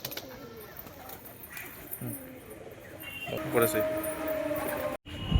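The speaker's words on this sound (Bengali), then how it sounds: "বন্ধুরা এই একজোড়া বিস্কুট পায়রা দেখুন" A pair of biscuit pigeons coo softly among other birds in a pigeon seller's loft, low rolling calls under a busy background, with a person talking nearby.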